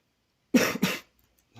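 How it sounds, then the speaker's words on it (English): A person coughs twice in quick succession, close and fairly loud, followed by silence and a faint trailing breath. "It's not nice hearing someone cough, is it?"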